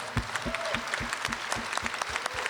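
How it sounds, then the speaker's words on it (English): An audience claps at a 45th Ward aldermanic runoff forum; the applause is moderate and fairly sparse, with individual claps standing out in a loose rhythm for a few seconds. "Please give him a round of applause"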